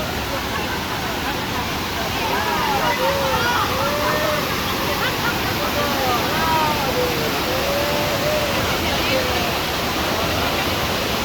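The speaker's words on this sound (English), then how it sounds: "And here is the waterfall." A waterfall at a tourist spot in Dalat, Vietnam, roaring as a steady broadband rush, with birdsong or whistles and a faint murmur of people layered over the constant water noise.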